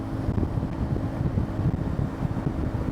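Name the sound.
strong wind blowing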